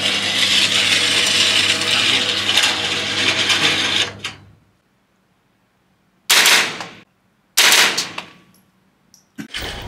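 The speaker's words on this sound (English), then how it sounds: "This is a M4 real gun, bro. Now I will shoot 2 rounds bullet" M4 rifle shots at a shooting range: a loud sustained burst of firing for about four seconds, silence, then two sharp separate blasts with short decaying tails, and a fainter crack near the end.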